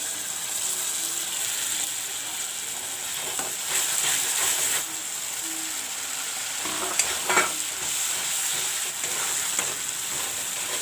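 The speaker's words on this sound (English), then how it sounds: "The ginger garlic is slightly fried a bit." Ginger garlic paste fries and sizzles steadily in a pan of oil with turmeric while preparing chicken curry, with a spoon stirring and scraping in occasional bursts, close and continuous.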